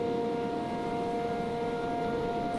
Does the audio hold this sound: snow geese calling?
no